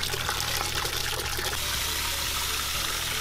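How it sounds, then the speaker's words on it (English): Aquarium sand being rinsed under running water, a steady loud rush and splash with a low rumble, continuous throughout with no pauses. "Now it's time to rinse the sand and get to scaping"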